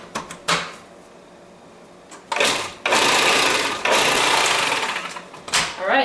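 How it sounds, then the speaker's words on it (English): A food processor blends frozen banana with vanilla, whirring loudly in long bursts with short pauses between pulses, after a few knocks and clatters of handling. "I'm going to go ahead and just process this until it's creamy."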